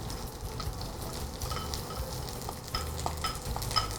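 Shallots, garlic and ginger sizzle in hot oil in a wok while a spatula stirs and scrapes, a steady close frying hiss with light clinks, no talking.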